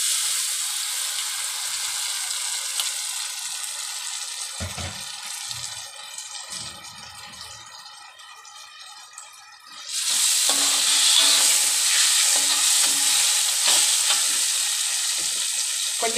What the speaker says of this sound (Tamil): இப்போ புளி தண்ணியை ஊற்றிக்கலாம்.